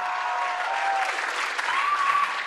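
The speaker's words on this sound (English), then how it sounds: "Clap again." A church congregation at a Sunday service claps in a steady, moderately loud burst of applause lasting a couple of seconds, with a faint whistle-like tone riding over the clapping.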